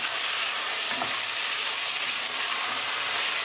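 Tomatoes are stirred into a frying pan while chickpeas and black beans cook, producing a steady close sizzle with a soft scrape of the spoon.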